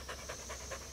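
Dogs pant outdoors in quick, rhythmic breaths, about five huffs per second, soft and close over a faint steady background hum.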